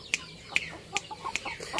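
A female European Shamo chicken gives short, sharp clucks, five quick evenly spaced pecking notes close by, with soft murmuring in between and no speech.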